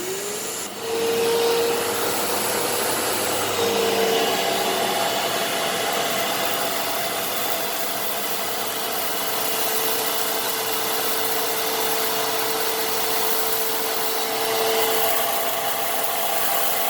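A vacuum cleaner with a broken cord hook runs steadily for the whole stretch, a continuous close whine and rush of air with slight shifts in pitch as it picks up debris.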